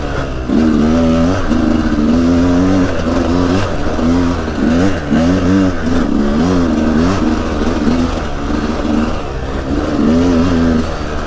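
A Sherco SE-R 300 off-road motorcycle engine revs repeatedly on rough terrain, its loud buzzing note rising and falling in waves, close and continuous, with no talking.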